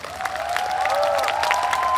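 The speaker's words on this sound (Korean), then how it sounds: "여러분 조금만 더 크게 쳐주세요" Louder applause from the audience at the Seoul Jazz Festival open mic jam session, steady clapping from the crowd with sustained tonal sounds over it, moderately loud and continuous for the whole stretch.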